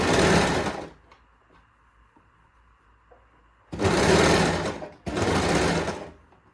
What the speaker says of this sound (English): Line up a bit of fabric and just keep sewing.